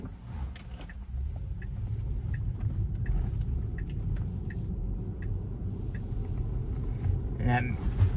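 A car approaches fast from the opposite direction and rushes past, a steady road rumble swelling near the end, heard from inside a Tesla driving with FSD Beta 11.4.8.1 amid constant engine and tire noise.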